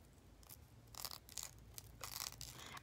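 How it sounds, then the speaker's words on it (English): Crinkly plastic wrapping being peeled and rustled close by, soft irregular crunching bursts in quick succession, quiet and without speech. "There's a plastic I can't get off, so it's like crunchy."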